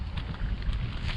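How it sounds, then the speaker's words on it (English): Cold wind gusts outdoors in Maine, a rough low rumble of air buffeting the microphone for a brief moment, loud and close with no voices. "Windy and cold."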